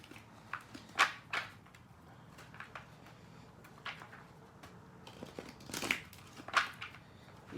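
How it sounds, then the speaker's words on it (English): Quiet papery riffling and soft slaps of tarot cards being shuffled, in short uneven bursts with crisp flicks, close by and without talk. "These cards do not want to shuffle right now."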